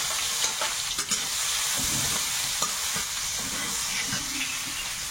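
Chopped onion and garlic fry in a wok after bay leaf and five-spice seeds, giving a steady loud close sizzle with occasional stirring scrapes and no talk.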